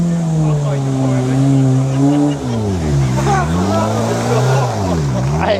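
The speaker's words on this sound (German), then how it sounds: "Die wollten wohl auch mal eine Runde fahren mit ihrem Caddy-Car hier." Caddy car at an air-cooled VW Beetle and Bus meet in Wanroij, its engine droning loud and close with rising and falling revs as it drives a lap.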